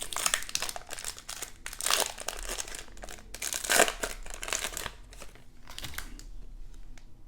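A foil wrapper on a 2021-22 O-Pee-Chee Platinum hockey card pack is torn open and crumpled close to the microphone, producing repeated bursts of crisp crinkling and tearing with brief pauses between them.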